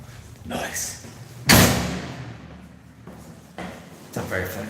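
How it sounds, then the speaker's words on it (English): A loud door slams with a heavy bang, then opens and closes again in a few shorter thuds and scrapes, with people talking in the room. "It's a very fucking loud door,"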